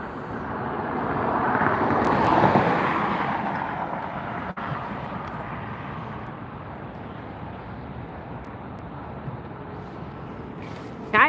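Airliner jet engines roaring during departure at Los Angeles International Airport (LAX), a broad rush that swells to a peak and then slowly fades as it moves away.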